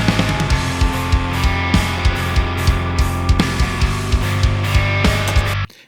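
A full rock mix of drums, bass and lead guitars playing together, with steady, punchy drum hits driving the groove under sustained guitar tones, loud and continuous until an abrupt stop at the end.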